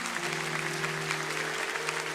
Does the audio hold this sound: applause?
yes